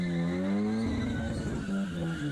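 A Mazda Miata track car doing a burnout, its engine droning loudly and steadily at high revs while the tires skid and squeal, close and continuous throughout.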